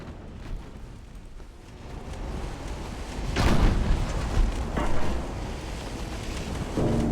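Artillery fire in a video game booms in heavy, rumbling bursts, the loudest around the middle, over a constant wind-like roar of battle ambience with no talk.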